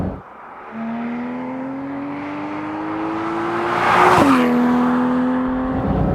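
A Porsche 911 GT3 RS (991.2) flat-six engine revs steadily higher, then drops sharply in a quick gear shift and keeps pulling, loud and close.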